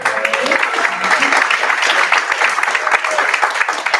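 A storytelling and comedy showcase crowd on a Wednesday night claps for itself in a dense, steady round of applause, moderately close and continuous throughout, with faint voices mixed in.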